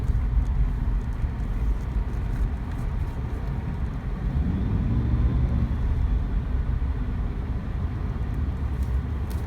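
Road traffic heard in a World of Tanks game scene, a steady, loud, dense rumble of engines and tyres with no breaks, continuous from start to finish.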